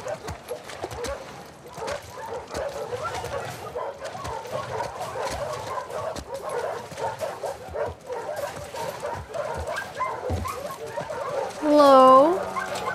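Dogs bark and whimper among busy sounds and music in The Last of Us Part II on PS4, with people talking over them and a brief rising electronic tone near the end.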